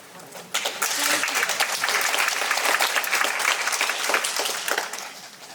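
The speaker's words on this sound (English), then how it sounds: "clapping is part of the sentiment and feedback and should definitely be included in this hearing" A community meeting audience applauds steadily for several seconds, a dense wash of many hands clapping indoors, with a few voices faintly mixed in beneath it.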